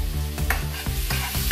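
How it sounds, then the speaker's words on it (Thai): Giant water bug chili paste is stir-fried in a pan with a close, loud sizzle and quick rhythmic scraping strokes of a spatula, alongside a low steady hum. "น้ำพริกแมงดาลงไปผัดเลยครับ"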